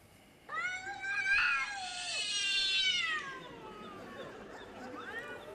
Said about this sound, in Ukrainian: А чуєш, що коти витворяють?